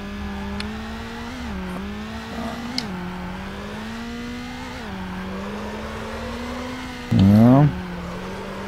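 Front-wheel-drive VW Golf in Need For Speed Underground, a steady droning engine hum that rises and dips with throttle, then a sharp rev climbing in pitch near the end, with someone talking over it.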